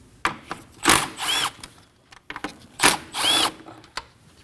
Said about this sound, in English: Using a 10mm socket, we're going to go ahead and move this reservoir out of the way.